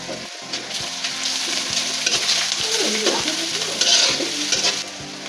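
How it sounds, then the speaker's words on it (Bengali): Onions sizzle and fry steadily in a hot pan for a momo filling, with a loud continuous hiss punctuated by regular stirring scrapes of a utensil against the pan, close up and without talk. "তার জন্য এখানে পেঁয়াজ দিলাম। আমাদের পেঁয়াজটা একটু মজে এসেছে।"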